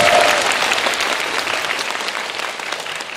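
Audience applause at a live film talk event for the Korean movie Swing Kids, a dense, steady wash of many hands clapping that starts loud and tapers slightly over a few seconds.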